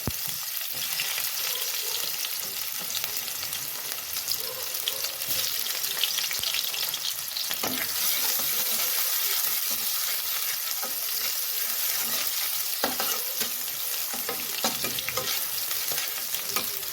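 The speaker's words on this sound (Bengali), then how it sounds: "তেলটা গরম হয়ে গেছে প্রথমে আমি পেঁয়াজগুলো দিয়ে দেবো" Onions frying in hot oil, a loud, dense, continuous sizzle up close with occasional stirring scrapes, no voices.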